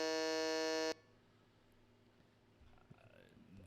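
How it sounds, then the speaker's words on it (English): A loud, harsh game show buzzer blares once for about a second after a wrong answer, then cuts off abruptly into quiet room tone with faint movement. "Go on, play the buzzer."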